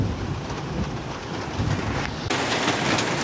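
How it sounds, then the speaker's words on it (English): Rain falls steadily and heavily over a village, a dense, even hiss that grows louder partway through, with no voices heard. "Guys, it's raining."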